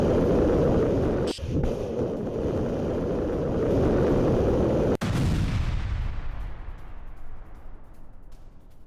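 Heavy gunfire and a roaring blast fill an attack on an Israeli ship in the Red Sea, one sharp crack partway through and another near the middle, loud and close, then a dull fading rumble with wind buffeting the microphone.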